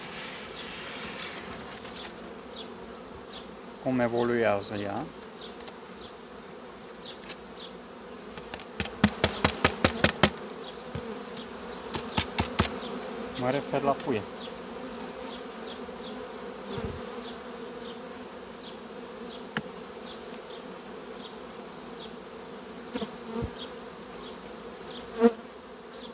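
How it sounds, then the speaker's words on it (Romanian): Honeybees buzz around an opened hive frame, a steady close drone with individual bees flying past, mixed with clicking and tapping on the wooden frame while someone speaks briefly. "Acum albina zboară"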